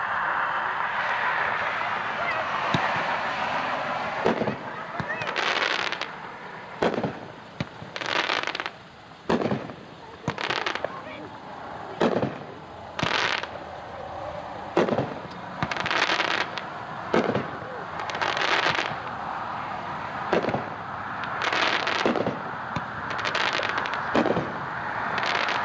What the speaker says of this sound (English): looks like a small 9-shot rack with the tube sticking out